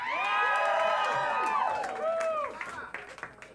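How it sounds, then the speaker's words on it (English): Shouts and whoops rise over clapping from a crowd at a live dating game show as the bachelors are introduced, with voices whooping loudly before scattered claps trail off. "Big round of applause for our bachelors tonight."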